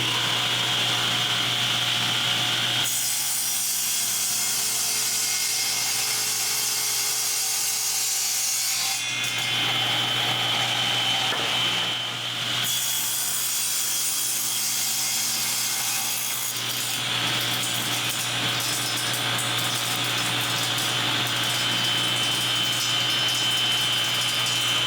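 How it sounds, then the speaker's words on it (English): A table saw cross cutting a hardwood piece guided by a miter gauge, a loud steady whining roar of blade through wood that runs long, dips briefly twice, then resumes, with no talking. "we are going to cross cut it on the table saw with the miter gauge"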